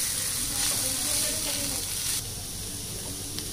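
Steady sizzling of shredded chicken being stirred into vegetables in a hot pan, a close constant hiss that eases slightly toward the end.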